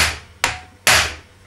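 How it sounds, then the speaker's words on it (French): Two sharp metallic hammer blows strike an impact screwdriver while fitting screws on a BSA Blue Star motorcycle, close and loud, each crack ringing briefly and fading, the second harder. "Le tournevis à frapper plutôt."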